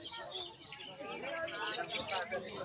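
Parblue opaline birds at the Malabon pet market chirp and tweet in bright overlapping bursts amid cooing, while people talk nearby in a busy indoor stall.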